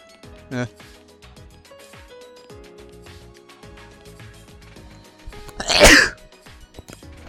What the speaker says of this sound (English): I'm gonna sneeze. I think I'm gonna sneeze.